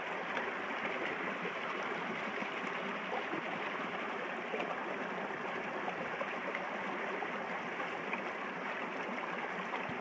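Water moving steadily in a quiet pool beside a gold prospecting sluice while a pan is worked, a continuous close trickling and gurgling wash with no talk.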